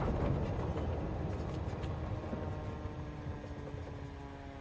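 Aircraft engine in a flight simulator game throttling all the way down, a broad low rumble with steady tonal hum that slowly fades in loudness over several seconds, no voices.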